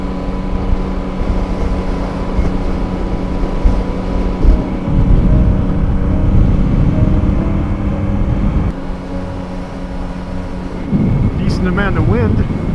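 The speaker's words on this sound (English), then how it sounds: "Decent amount of wind up here. I can feel it blowing me around." Strong wind on the Berthoud Pass mountain road in Colorado makes a continuous low, rumbling roar that swells in gusts and buffets loudly throughout.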